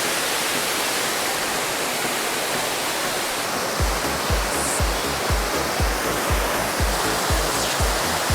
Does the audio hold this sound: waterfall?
yes